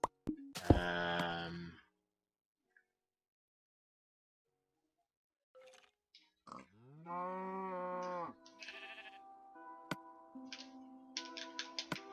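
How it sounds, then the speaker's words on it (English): Cows in the Minecraft video game give several drawn-out moos, one long and prominent, followed by shorter lowing calls, heard alone after a brief burst of noise and a quiet gap. "I'll just kill these last few cows."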